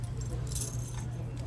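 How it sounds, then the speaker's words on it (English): A keychain's metal keys jangling softly and continuously for a brief moment, close by, with faint background hum and no clear speech. "Keychain."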